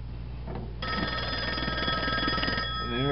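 A 1958 Northern Electric 554 black wall telephone rings with a loud, steady electromechanical bell, starting after a short quiet stretch and sounding close for the rest of the clip.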